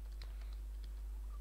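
Fingers tapping out a code on a computer keyboard, a quick run of light, irregular clicks close by, quiet and alone over a steady low hum.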